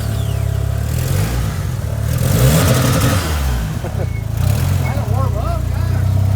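A Mitsubishi 3000GT VR4 with a swapped 4G63 engine idles and revs in a garage, a loud steady mid-pitched engine drone with rising and falling revs, while people talk nearby.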